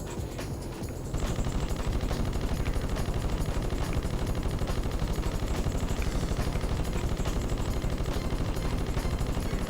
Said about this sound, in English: Or you can just use the machine guns.